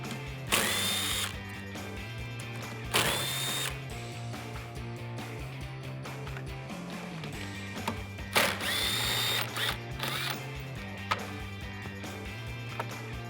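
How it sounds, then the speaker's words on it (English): A power tool whirs in short loud bursts with ratcheting clicks between, spinning off 11mm nuts holding the mirror to a 2005-2009 Ford Mustang door, close and repeated several times. "I'm going to unbolt the 3 11mm nuts here at the top that hold the mirror to the vehicle"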